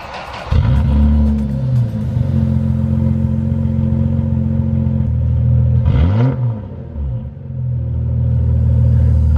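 A Toyota Supra with its muffler removed revs loudly and close by, a deep raw rumble that swells and holds, with a sharp throttle blip around the middle before settling back to a heavy idle-like drone.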